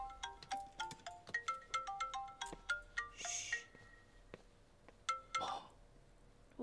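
A phone ringtone plays a bright, repeating melodic pattern of short tones for several seconds before stopping, fairly close and clear, with brief rustling and a faint voice.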